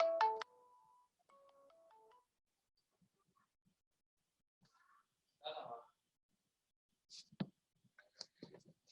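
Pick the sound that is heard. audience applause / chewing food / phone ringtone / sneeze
phone ringtone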